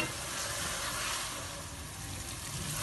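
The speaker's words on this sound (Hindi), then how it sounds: "तो अब हम आंच थोड़ी तेज़ करते हैं और इसको प्याज़ों को और टमाटरों को भून लेते हैं।" Onions and tomatoes fry over high heat in a pan of masala for a bhindi dish, giving a soft, steady sizzle and crackle throughout with no one talking.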